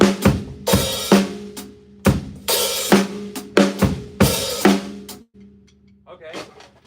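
A drum kit plays a steady groove of kick, snare and cymbal hits, with an open hi-hat added on the second eighth note of the second measure, loud and close, before the beat stops and a brief voice is heard.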